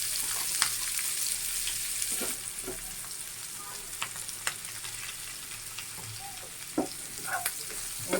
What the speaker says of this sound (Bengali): ওই তেলের ভিতর আমি এখন দিয়ে দিব কিছু পেঁয়াজ কুচি আর কাঁচামরিচ